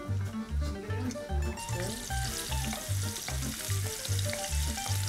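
Garlic fries in hot olive oil in an aluminium wok-style pan, giving a steady bright sizzle and crackle that runs throughout over a rhythmic low background beat, with no voices.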